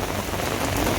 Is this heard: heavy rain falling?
yes